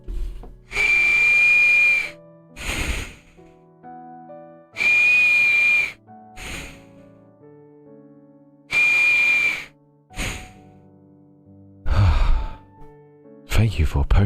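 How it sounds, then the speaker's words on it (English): A person's nose whistling while breathing, with thin steady whistle tones on each long exhale, repeated about four times with quiet gaps and softer breaths between them, close and fairly loud. "My nose does whistle after all."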